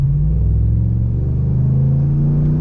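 A 2020 Ram Rebel pickup with a K&N cold air intake revs hard and steadily, its loud, close engine roar holding at high RPM with an intake sucking tone throughout.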